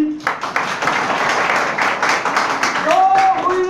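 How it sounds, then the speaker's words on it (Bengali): Audience applause at a Seventh Day Adventist school seminar in Savar, Bangladesh: dense, steady clapping from a crowd for several seconds, with a voice starting up near the end. "হাততালি"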